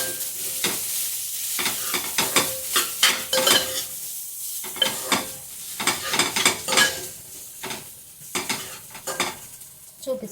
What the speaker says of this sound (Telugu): వేసుకుని కలుపుకుందాం ఫ్రెండ్స్, రైస్ వేసుకుని